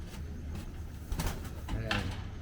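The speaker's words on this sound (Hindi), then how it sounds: "3 कबूतर लाए हैं अब्बू" Sialkoti pigeons coo softly nearby, a few low, rolling calls spread across a quiet background.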